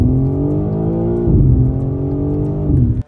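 A 2024 BMW M4 Competition with all-wheel drive engaged accelerates hard in a straight line, engine roaring loud and close, its pitch climbing through gear changes before cutting off abruptly.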